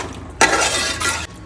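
A spoon stirs butter chicken sauce in a pan after butter and a little water have gone in, giving a loud, close, bristly scraping and sizzling swish that runs steadily for about a second before it stops.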